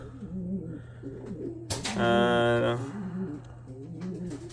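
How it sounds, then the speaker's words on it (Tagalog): Young racing pigeons coo in a loft, with a burst of wing flapping in the middle and soft cooing and faint rustling around it, close by, while someone talks quietly in the background. "pakita ko sa inyo yung mga young birds natin na medyo lumalaki-laki na"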